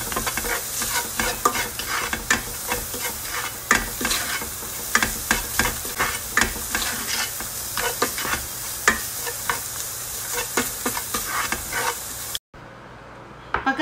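Minced meat sautéing in a pan with buharat Arab spice mix, salt and pepper, a steady close sizzle broken by repeated stirring scrapes and taps, cutting off abruptly near the end.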